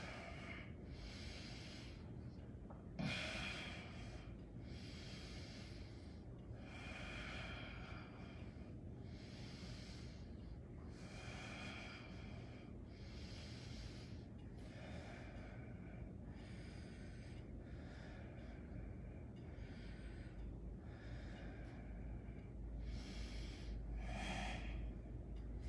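Slow, deep breaths during a yoga flow, each long airy inhale and exhale rising and falling in a steady rhythm, close and clear with no talking.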